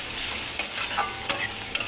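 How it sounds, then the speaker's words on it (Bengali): Onions frying lightly in a pan for pav bhaji, a steady close sizzle and hiss with a few sharp scraping stirs near the end and no talking. "একটুখানি পেঁয়াজটা ভাজবো"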